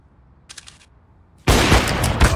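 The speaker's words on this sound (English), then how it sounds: "Throwing flashbang." Video game flashbang grenade and gunfire: a short burst of quick metallic clicks, then a loud, sustained blast of dense noise that fills the rest of the moment.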